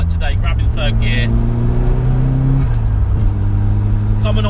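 A 1980s Ford Escort Series 1 RS Turbo accelerates hard in third gear, its engine note climbing steadily before a brief dip, then rising again as it comes on boost. The engine drones loud and close throughout, with no voices.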